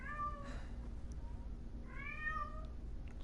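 A cat meows twice, clear harmonic cries about a second and a half apart, close by over a low steady rumble of background noise.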